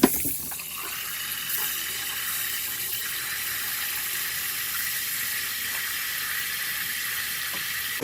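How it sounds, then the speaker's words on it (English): Water runs steadily from a tap into a composting toilet aboard a boat, a continuous bright hissing splash at moderate level with no talking. "I'm going to fill it with water again one more time."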